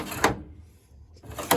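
A drawer on a used machinist tool box with worn felt liners slides open and shut, two short rolling scrapes about a second apart with a quiet pause between.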